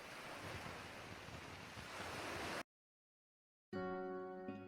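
Broad rushing surf of Sea of Azov waves on the Zaporizhzhia coast, Ukraine, with wind, loud and close, then a sudden cut to silence and music.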